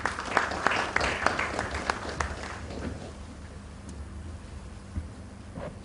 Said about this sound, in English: A round of applause for Dr. Prasad, please.